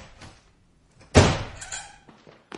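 A door closes with a solid thunk in a French radio drama adventure, one loud close impact followed by a short decaying rumble, with faint rustling around it and no talking.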